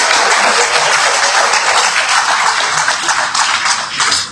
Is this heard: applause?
yes